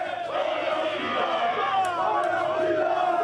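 Dense crowd celebrating on the Champs-Élysées in Paris, near the Arc de Triomphe, after France reached the football final, a continuous roar of shouting and chanting voices with brief whistles, loud and sustained throughout.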